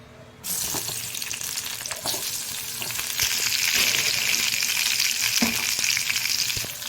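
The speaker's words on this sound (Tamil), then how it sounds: "தக்காளி ஆட் பண்ணி நல்லா வதக்கி விட்டுக்கோங்க" Chopped tomatoes frying in hot oil in a kadai while being stirred, a steady close sizzle that grows louder and brighter after a few seconds, with occasional scraping knocks from the stirring.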